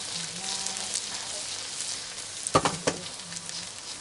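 Fuyunghay sizzles in hot frying oil just after being flipped, a close, steady hiss with a few sharp spatters and scraping clicks partway through, no voices.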